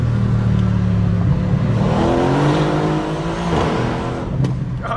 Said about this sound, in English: the burbles on this car are deeper and they're shorter, but it has like a nice little tone to it